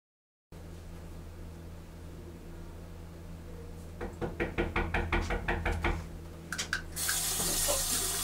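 Water runs from a tap for bathing, a steady hiss joined by a string of knocks and splashes midway, then a louder gush of flow near the end; no talk.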